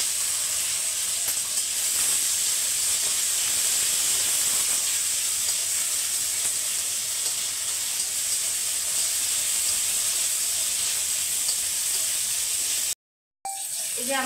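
Green banana peel frying in oil with black cumin and green chillies gives a steady, loud hiss and sizzle that runs unbroken, then drops out briefly near the end.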